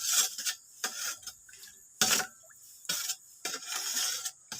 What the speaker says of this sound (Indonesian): Oke, kita aduk rata kayak gini.